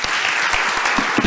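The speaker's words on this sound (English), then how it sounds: "Jessica, Elin, Olli, and Thomas, a round of applause." Audience applause for panel speakers at a fashion industry discussion, a brief dense burst of clapping from a small crowd, close and steady.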